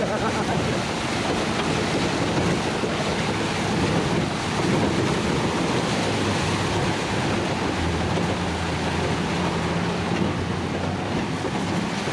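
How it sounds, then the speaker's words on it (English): Loud, continuous rushing and churning of a boat's engine and water as the exhaust goes under water, a dense roar with wind buffeting the microphone throughout. "Look at when the exhaust goes underneath the water."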